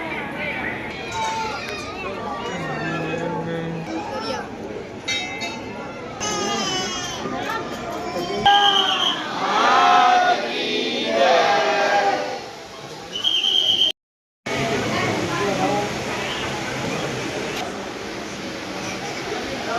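Devotees crowd the Umiya Dham temple in Unjha, a dense, close hubbub of chatter, children's cries and whistles, with a person talking throughout and one brief dropout near the end.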